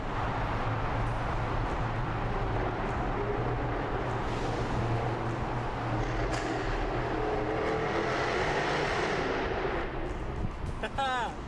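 Inside a tunnel, a Jaguar F-Type sports car engine roars loud and continuous with booming echoes, ending in a quick burst of crackling pops, while a voice talks over it.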